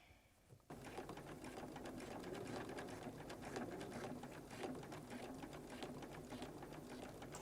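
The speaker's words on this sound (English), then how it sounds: "So I'm going to start with a straight stitch, and it won't matter what petal I work on" Sewing machine running steadily in a straight stitch, appliqueing down the edge of a quilt petal; a continuous, close, even whirring with rapid needle ticks that starts after a brief quiet moment and carries on alone.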